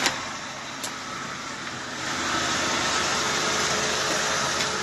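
A car drives off near the Yusufeli dam reservoir during a search and rescue operation. A few faint knocks come first, then a steady engine and road rumble that grows slightly louder, with no talk.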